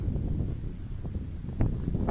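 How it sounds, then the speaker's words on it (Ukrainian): Strong wind buffets the microphone in a constant low roar with gusty rumbles, close and loud, with no clear talking. "який вітер знявся, ти що?"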